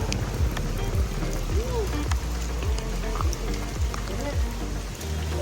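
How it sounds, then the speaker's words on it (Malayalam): Heavy rain falls on a surface in a quiet village in the Ambanad hills in Kollam, a dense continuous patter with a voice talking over it throughout. "ഫുള്ള് മഴയാണ്"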